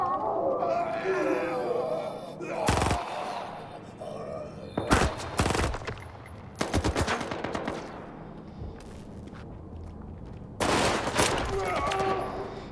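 Automatic gunfire from a worn, damaged rifle in S.T.A.L.K.E.R. 2 while fighting zombies, several sharp rapid bursts loud and close, interspersed with quieter ambient game sounds and occasional voice.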